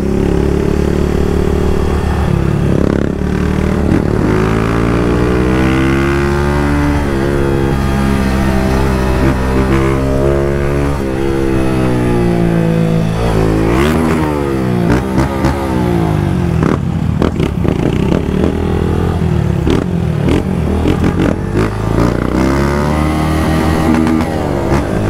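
Honda Start 160 motorcycle fitted with a GRS exhaust revving steadily up and down, throttle blipped and cut repeatedly, loud and close with a throaty rising and falling pitch and no talk.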